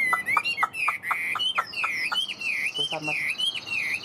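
A tame hwamei songbird with a golden beak and golden legs sings loud, close, rich whistled phrases, repeated swooping notes and quick trills, while someone speaks briefly under the song.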